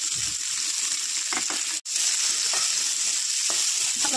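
Whole cumin, nigella seeds and onion hit hot oil with fried potatoes in a pan for a Bengali fish curry, giving a loud continuous sizzle close up, with a few stirring scrapes and one brief dropout.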